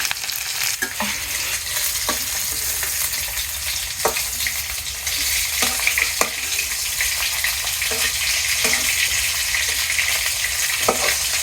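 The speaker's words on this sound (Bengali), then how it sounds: "বল মাছ ভাজি হয়ে গেছে এখন নামিয়ে নিব" Pieces of bol (boal) fish frying in a pan, a steady close sizzle with scattered crackles and pops throughout, no voices.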